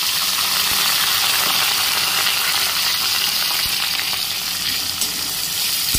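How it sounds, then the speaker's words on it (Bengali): Plenty of chopped onions frying in hot oil tempered with asafoetida, a loud continuous hiss and sizzle heard up close, with occasional faint pops and light stirring knocks, no talking. "পেঁয়াজটা এবারে ভেজে নেব ভালো করে।"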